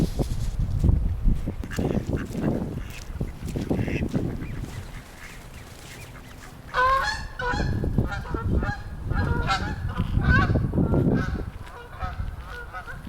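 Ducks and geese call outdoors in a snowy setting, bursts of honking and quacking over wind and rustle, fairly close.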